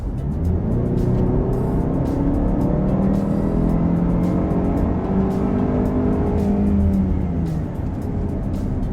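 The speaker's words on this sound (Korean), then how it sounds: "급가속 할 때 제가 가속 페달을 끝까지 밟을 거예요." Jaguar E-Pace engine accelerating hard at full throttle from about 30 km/h, a loud, steady rising drone with climbing harmonics, heard from inside the car and continuous throughout.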